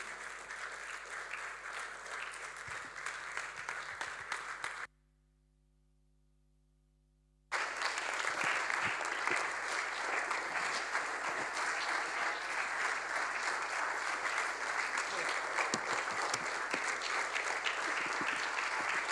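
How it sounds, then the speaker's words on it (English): A conference audience gives sustained applause for an opening address, dense, loud clapping from a large crowd that continues apart from a short silent gap. "Keep clapping until he comes up stage."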